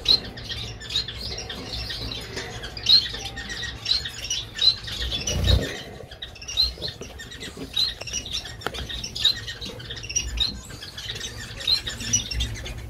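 Three pet finches, one female and two males, chirp continuously at close range, with rapid repeated tweets and squeaks and a brief rustle partway through.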